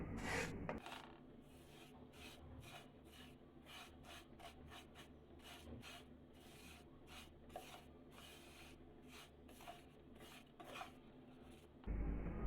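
Lachcha semai frying on low flame in a pan, heard as a close, continuous dry rasping and scraping as the strands are stirred, with frequent rhythmic clinks of utensil against the pan and no voices.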